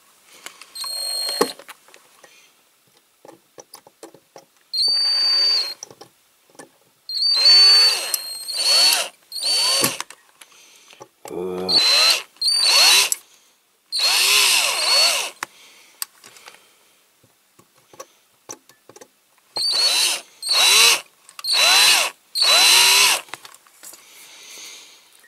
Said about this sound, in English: small drill